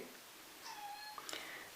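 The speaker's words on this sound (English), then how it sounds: "you might just hear Millie meowing" A house cat gives a faint, brief meow in the background of a quiet room, a thin drawn-out call followed by a few soft clicks.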